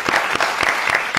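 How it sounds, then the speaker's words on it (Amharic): Studio audience applauding on a television talk show, a steady burst of clapping with rhythmic peaks, close and loud, alone without talk. "አጨብጭቡላቸው ስለነሱ።"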